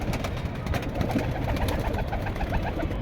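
Pigeons at a pigeon collection coo in a low, continuous murmur close by, several birds overlapping without pause, with no speech.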